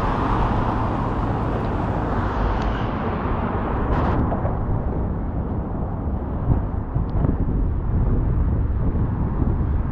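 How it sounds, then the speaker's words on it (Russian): Wind blowing across open flat plain roars steadily and buffets the microphone with a low, rumbling rush that continues throughout, and no voices are heard. "Такой ветер степной как бы, да?"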